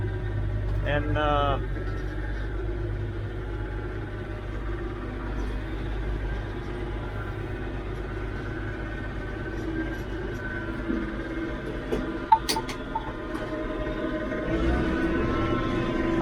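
Massey Ferguson 1105 tractor engine idling in a hay field after cutting, a steady low diesel rumble throughout with someone talking over it and a brief clatter near the end.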